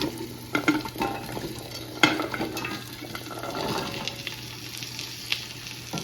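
A spoon stirs a paste loosened with olive oil for a stovetop pot roast, producing close wet scraping and occasional clinks against the pan over a faint steady hum, with no one talking.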